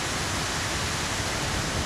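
A mountain waterfall in snowy Corsica roars in a dense, constant rush of water, loud and close, with no voices.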